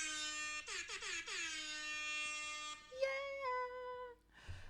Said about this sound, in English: redeemed air horn noises and this one's for the homies